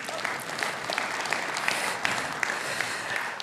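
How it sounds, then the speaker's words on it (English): A seated audience at a corporate economic outlook presentation breaks into steady, dense applause that holds at an even level throughout, with scattered sharper claps standing out. "don't you think that deserves a round of applause,"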